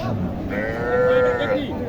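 A cow gives a drawn-out moo close by at a cattle market in Naogaon, Bangladesh, amid a noisy background of other livestock and murmuring people.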